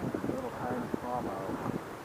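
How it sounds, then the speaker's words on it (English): Wind blowing steadily across a riverside fishing spot on a day before a storm, a broad continuous rush that fills the background while someone talks over it. "This wind is still a problem."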